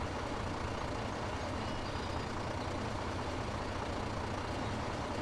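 A truck in Farming Simulator 15 runs with an odd, steady broadband engine noise, a faint constant hum and hiss without distinct changes, no talking.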